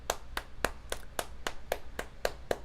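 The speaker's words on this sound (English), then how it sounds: "So she deserves a round of applause." A round of applause in a steady rhythm, about ten sharp hand claps spaced roughly a quarter second apart, close and clear with no talking.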